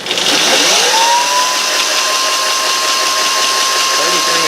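An electric motorcycle with an EBMX X-9000 V2 controller, a converted WR250E, spins up to maximum RPM, its motor whine rising quickly and then holding a steady high pitched tone over loud, constant background noise.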